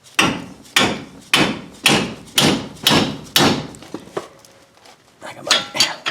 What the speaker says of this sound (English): Let me see if I can hit it with a hammer